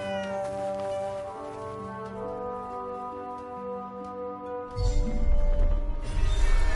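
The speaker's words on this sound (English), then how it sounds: "A cat." A cat meows in the video game Forspoken, a drawn-out tonal call over a layered in-game background that swells louder near the end.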